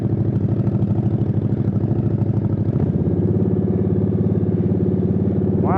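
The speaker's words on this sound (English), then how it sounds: "Why are you idling so high?" A motorcycle or similar mid-sized engine idles high and steady, a loud continuous throbbing rumble with slight clatter that holds throughout, rising a little near the end.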